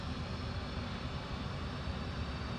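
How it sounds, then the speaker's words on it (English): A steady, dense roar builds from the left engine of an F/A-18C jet during start-up in the DCS flight simulator, a continuous whooshing drone with no speech. "about now we should start adding fuel to the left engine to get it going"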